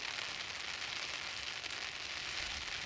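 Relentless rain blown on a strong wind beside a river where barbel fishing is under way, forming a constant, even hiss with a faint low rumble beneath, close and unbroken, with no voices.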